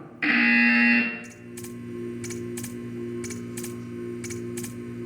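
A loud, harsh electronic buzzer from the video game Portal blares for about a second, then a steady electronic hum continues with a few faint clicks.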